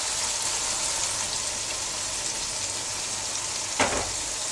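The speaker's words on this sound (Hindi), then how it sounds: "दही है इसे डालूँगी।" Yogurt hits a pan of frying tomato masala with a steady broadband sizzle, and a brief louder hiss flares near the end as it lands in the hot oil.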